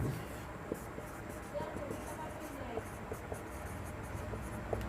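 Chalk or marker writing on a board during a lesson, a series of short scratchy strokes and light taps at an irregular pace, faint and close.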